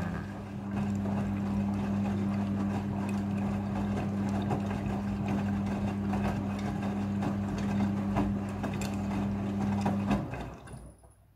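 A washing machine fills automatically with water for its rinse cycle, a steady close hum with rushing water running evenly for about ten seconds before cutting off and fading.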